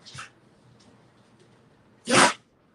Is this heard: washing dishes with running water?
no